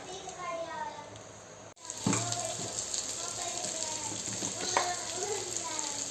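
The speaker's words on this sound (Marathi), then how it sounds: "आता हलवून घ्यायचं आहे ते बटाटे ते बटाटे टाकल्याचे त्याच्यात" Potatoes stirred in a frying pan while making vada pav at home, a steady oily sizzle with a sharp spatula scrape and clatter partway through, continuing under faint background voices.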